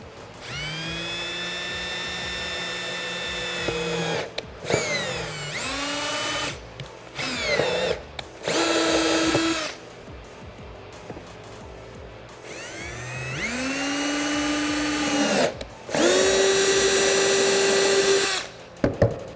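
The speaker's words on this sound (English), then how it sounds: "take our drill and drill bit, and we're gonna drill in these 2 holes" A power drill whirs in several bursts while drilling holes during installation of a cold air intake on a 2018-2019 Ford F-150 2.7L EcoBoost, spinning up and winding down repeatedly, loud and close with brief pauses between runs.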